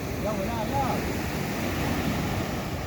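Sea waves surge and break near a small boat, a continuous loud wash of surf with wind noise across the microphone, steady throughout.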